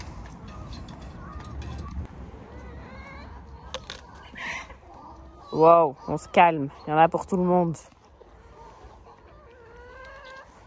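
Hens cluck and squawk loudly in a short flurry, close by, amid a soft steady background, while a person speaks before and after.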